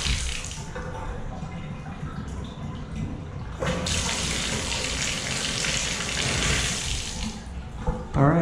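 Water runs from a faucet into a sink, a steady close splashing gush that swells louder midway and continues without pause; a voice is briefly heard near the end.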